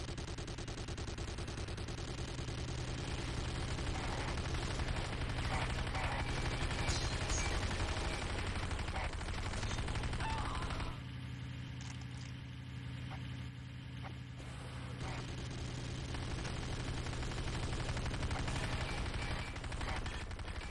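Sustained gunfire and explosions from a GDI infantry barracks under attack in Renegade, a Command & Conquer game, form a dense, loud, continuous barrage lasting throughout, with a brief thinning in the middle before the full din returns.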